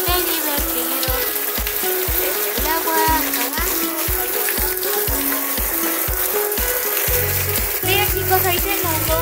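Rain falling and water running at night, a steady hiss of drops and splashing trickle filling the scene, with voices talking faintly underneath.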